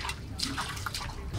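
Water being scooped and bailed out by hand, a series of close splashing and pouring sloshes at irregular intervals.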